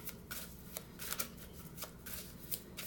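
A deck of tarot cards being shuffled by hand, with crisp riffling bursts repeating in an uneven rhythm, close and quiet, with no talk.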